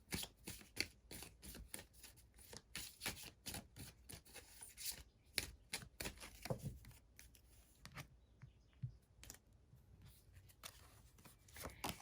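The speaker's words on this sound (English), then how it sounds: "Let's draw you a couple more Reiki cards." Reiki cards shuffled and drawn, a dense, close run of quick papery riffles and flicks that continues steadily, thinning briefly before picking up again, with no voice over it.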